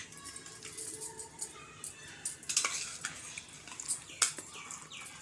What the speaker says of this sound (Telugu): ఇట్లా తిప్పుకుంటూ ఉండాలి